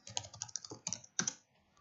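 Fingers typing on a computer keyboard, a quick burst of about a dozen close, light clicks in an uneven rhythm, then a brief pause and a couple more taps.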